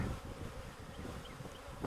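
A steady, low insect buzzing from a mass of honeybees from a cutout, a continuous drone with small fluctuations, fairly close and moderately quiet.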